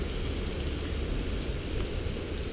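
Heavy rain from a storm pours steadily onto a tent at a trail shelter, a dense continuous hiss and patter, close and loud, with no voices.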